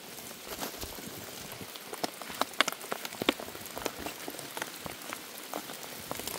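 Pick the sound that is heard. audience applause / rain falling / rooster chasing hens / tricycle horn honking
rain falling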